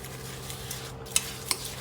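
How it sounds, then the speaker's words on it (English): Rice Krispies are stirred into melted chocolate in a bowl, giving a soft continuous crackling scrape with two faint clinks of utensil against the bowl. No voices. "I'm just stir this all together"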